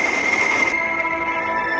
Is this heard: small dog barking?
no